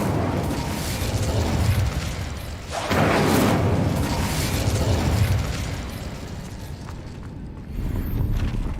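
Whooshing bursts of the Incendio fire spell cast in Hogwarts Legacy, loud roaring blasts that swell and fade in waves, with a sharp onset near the middle and another near the end.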